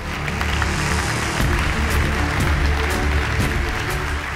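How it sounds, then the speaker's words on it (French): Applause from the crowd at an awards evening, steady clapping mixed with a low musical backdrop and crowd murmur, holding at an even level throughout. "sous vos applaudissements s'il vous plaît"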